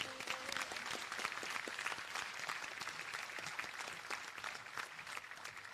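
Faint, sustained applause for the graduates at a business studies academy graduation ceremony in the Seychelles, an even wash of many hands clapping at a distance with no voices over it.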